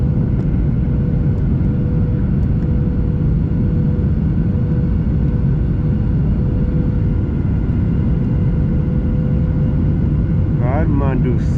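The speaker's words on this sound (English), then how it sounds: "now we are about landing to Kathmandu airport" Airliner cabin on final approach to Kathmandu airport, a loud steady low engine roar and rushing air filling the whole stretch, with a steady hum running through it and faint voices toward the end.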